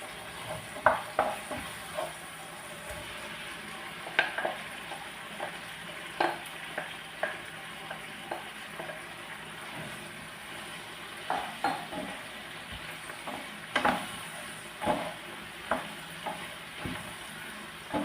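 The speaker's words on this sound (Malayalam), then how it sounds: "ടൈമിലിട്ട് നിർത്താതെ ഒരു അഞ്ച് മിനിറ്റ് ഇങ്ങനെ ഒന്ന് ഇളക്കി കൊടുത്തുകൊണ്ടിരിക്കണം" Chicken for chilli chicken frying in a pan while being stirred continuously, with a soft steady sizzle broken by repeated close scrapes and clicks of the spoon against the pan, and no talking.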